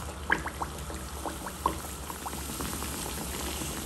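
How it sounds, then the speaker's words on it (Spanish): Chicharrón-filled empanadas fry in a pan of hot oil, giving a steady low bubbling hiss broken by a few sharp pops near the start, close up and with no voices. "Vamos a esperar a que eso se fría."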